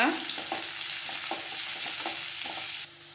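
Fennel, poppy seeds, cinnamon, cloves and cardamom sautéing in hot oil for a wedding-style meat curry, with a steady close sizzle and a few soft stirring scrapes, no voices.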